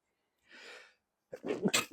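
A muffled, stifled sneeze comes as a short, soft, breathy burst, followed after a brief pause by a closer, louder voice.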